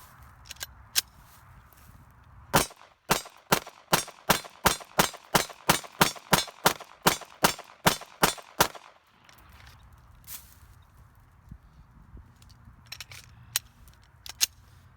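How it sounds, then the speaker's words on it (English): About twenty sharp, evenly spaced gunshots striking a steel target, a rapid string of loud cracks with light handling noises before and after. "I'll get shooting at our steel target"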